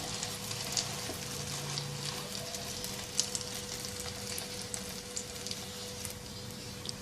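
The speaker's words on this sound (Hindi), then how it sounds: "एक तरफ से फ्राई हो जाए तो साइड तब्दील कर देंगे" A burger patty fries in a hot pan, giving a steady, close sizzle and crackle that holds evenly throughout with no voices.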